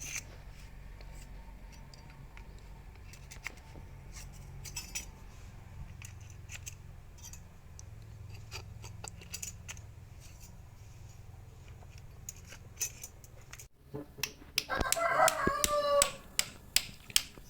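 Thin metal transformer core laminations are slid in one by one, producing sharp, irregular clicks and scraping metallic ticks close by, denser and louder toward the end over a low background hum.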